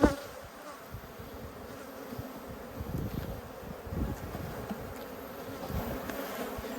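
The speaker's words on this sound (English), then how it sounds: "I'm going to shake these bees off" Dense, steady buzzing of many honeybees close by on a hive frame, a continuous low hum with no talking.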